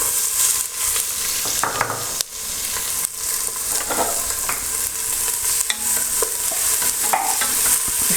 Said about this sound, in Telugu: ఇది దోరగా వేయించుకుందాం బాగా.